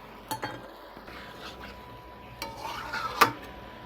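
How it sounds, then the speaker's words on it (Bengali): Spiced chicken being stirred in a pan with cumin, turmeric, chilli and coriander powder, a few soft scrapes and light metal clinks over a faint sizzle, quiet and close with no talk. "মশলাগুলো দিয়ে মাংসটাকে ভালো করে কষানো হচ্ছে।"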